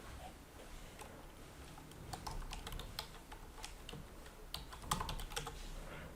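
Keys click on a computer keyboard as a website name is typed, a quiet, uneven patter of taps with a few denser bursts, close and with no voices.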